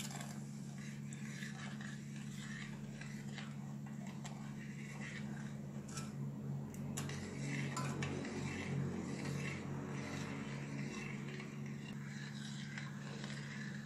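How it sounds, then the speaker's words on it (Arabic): A spoon stirs sugar in cups until it dissolves, giving soft repeated clinks and scrapes against the cup over a low steady kitchen hum. "ورح نحركن لحتى يدوب السكر على الآخر"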